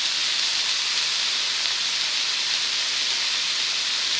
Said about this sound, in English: I'm going to go ahead and just saute this some